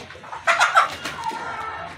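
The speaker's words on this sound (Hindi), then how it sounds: "इस मुर्गी को बाहर निकालना था" A hen gives a short run of sharp clucks up close in a pigeon loft, then falls to quieter, scattered clucking.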